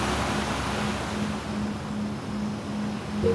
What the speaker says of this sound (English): enjoy the calming sounds of the ocean